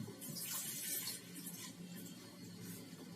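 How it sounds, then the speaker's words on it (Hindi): Water poured from a cup into spinach and carrot dhokla batter, a steady close splashing trickle with a brief louder burst early on, no talking. "ये देखिए ये आधा कप पानी डाला है"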